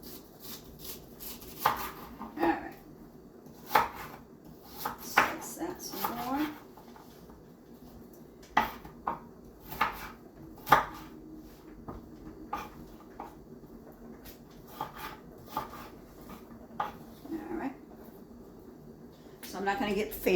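Knife chopping green pepper and onion on a cutting board while making a kielbasa, mashed potato and bean supper, a scattered series of close, sharp cuts and taps interrupted by a person talking.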